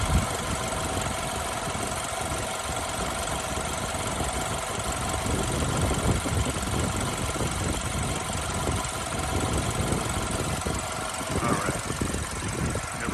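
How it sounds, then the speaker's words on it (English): Engine bay of a 2015 BMW 228i Coupe with a six-speed manual, its four-cylinder idling steadily at close range, a constant mid-pitched hum with a faint ticking texture and no breaks throughout. "Hover over the engine here for a moment so you can take a listen"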